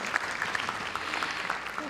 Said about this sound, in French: on peut applaudir en effet